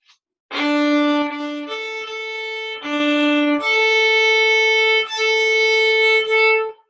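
Bowed violin notes on open strings, sustained and switching between two pitches in a steady rhythm, played alone with no talking.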